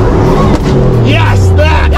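A fake Lamborghini's engine revs with the clutch in during an off-road outing, a low droning rev that sags in pitch, heard beneath loud overlapping chatter from people nearby.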